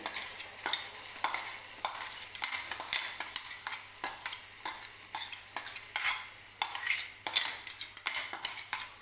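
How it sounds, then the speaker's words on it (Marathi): Onion and tomato paste sizzles and fries in a pan for a coconut-tomato chutney, with steady scraping and stirring strokes of a spoon against the metal, close and moderately loud, with no talking. "हे जे बारीक केलेलं आहे कांदा टोमॅटोची पेस्ट ती टाकते आता मी"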